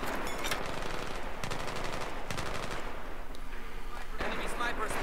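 Rapid automatic gunfire from a shooting video game, loud bursts of repeated shots with brief gaps, dense and close throughout.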